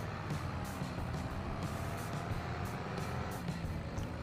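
A loaded farm truck driving in Farming Simulator 23, hauling flour: a steady, loud engine drone with deep low rumble, continuous throughout with no voices.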